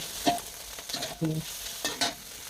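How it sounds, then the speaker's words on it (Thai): Pork stir-fried in hot oil in a wok for glass noodles, sharp bursts of sizzling with several distinct spatula scrapes and tosses, close and loud, no talking. "ผัดให้หมูสุกก่อน"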